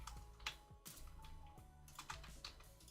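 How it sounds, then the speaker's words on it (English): Quiet, close keystrokes on a computer keyboard while code is entered, a soft irregular patter of clicks with faint low background hum. "now I'm going to type regular stock session."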